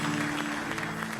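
Studio audience applause greets a singer on a French TV show, dense continuous clapping that holds at a steady level for a brief stretch.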